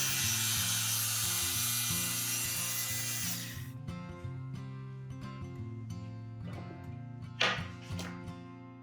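A power saw cuts grooves into a wooden trim frame during an old Japanese house renovation: a steady loud whine with hissing wood noise that cuts out, then the motor winds down with a droning hum and scattered knocks.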